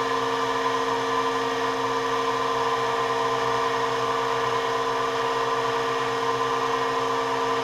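A fly cutter mills metal on a mini CNC mill, a steady tonal machining whine with a constant motor hum, even and continuous throughout with no talk.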